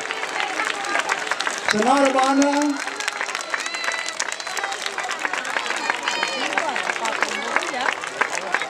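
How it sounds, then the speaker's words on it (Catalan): An audience at a school farewell for departing pupils claps and cheers. A loud burst of clapping is joined by a voice, then steady mixed applause and crowd murmur carry on to the end. "Un fort aplaudiment per ells."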